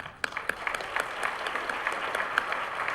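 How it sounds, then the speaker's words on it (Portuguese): Audience at a Brazilian public health conference opening applauds, a moderately distant round of clapping with distinct individual claps standing out over a steady patter. "uma salva de palmas para eles."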